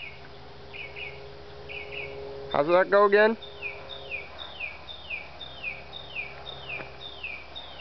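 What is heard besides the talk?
bird chirping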